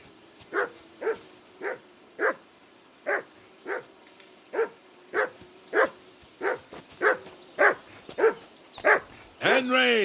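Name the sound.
dog barking in Kingdom Come Deliverance 2 video game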